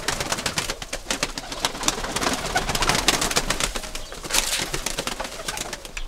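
Many pigeons coo and rustle together inside a loft, a busy layered chorus with occasional wing flaps, close and moderately loud.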